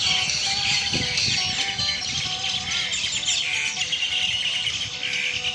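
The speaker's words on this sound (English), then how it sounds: "a little drama with the birds here" Small hopping birds in a park chirp and tweet busily and continuously at close range, several calls overlapping in a steady bright chatter over faint background noise.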